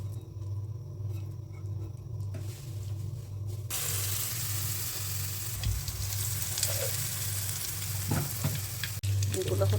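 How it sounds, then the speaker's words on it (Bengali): Beguni, battered eggplant fritters, crackle in hot oil with a sizzle that swells after a quieter start, with occasional stirring and utensil taps close by and no voices. "এখন হচ্ছে আমি বেগুনিগুলো ভাজবো।"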